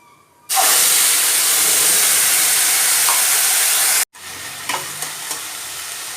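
Spice paste dropped into hot tempered oil bursts into a loud, steady sizzle and hiss that holds for several seconds, then cuts briefly and returns as quieter frying with scattered crackles.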